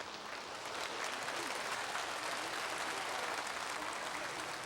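A studio audience at a 1983 live broadcast reuniting separated family members claps to congratulate two brothers, a faint, steady, distant-sounding patter of applause.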